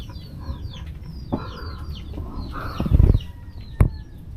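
Chickens cluck and squawk nearby in short irregular bursts while feeding on oysters at a riverside farm, with one sharp loud squawk near the end, over a low background murmur.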